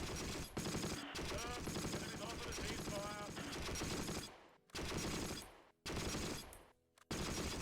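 Sustained machine gun fire rattles in rapid dense bursts in Close Combat: The Longest Day near Caen, broken by short silent gaps between volleys.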